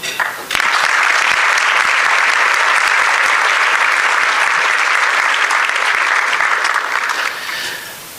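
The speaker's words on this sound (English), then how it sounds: "clap it up for Orlando and Orlando history in general" Sustained audience applause during a Black History Month labor event in Orlando, starting abruptly after a brief pause and holding steady and loud for several seconds before tapering slightly at the end.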